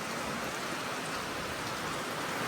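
Steady, dense rain and wind pour down in an even hiss with no pauses, close and fairly loud; no voices are heard.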